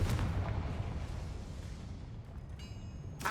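A Confringo fire spell explodes in Hogwarts Legacy, one loud blast up front that rumbles and fades over a few seconds, followed by a brief bright magical shimmer near the end.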